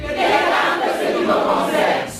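A crowd cheers and shouts in a sustained, dense roar of many voices, loud and continuous without pause.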